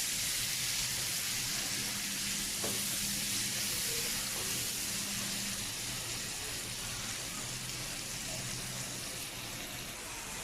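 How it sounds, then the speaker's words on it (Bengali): Chicken cooked Malaysian style frying in a pan, a steady broadband hiss of sizzling oil that runs unbroken from start to finish at moderate loudness, with no voices over it. "আমি তো ভেজে নিব, ভাজা ভাজা করে নেবো"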